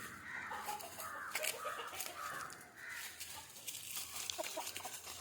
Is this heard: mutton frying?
no